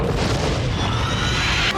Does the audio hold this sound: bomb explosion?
yes